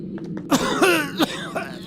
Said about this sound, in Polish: Tak, ty kaszlesz.